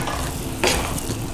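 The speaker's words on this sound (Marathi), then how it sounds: "आपण आता हे मिक्स करूया" Eggplant bharta is mixed in a pan under a steady sizzle and frying hiss, with one short scraping stir of the spoon partway through.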